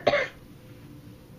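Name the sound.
woman coughing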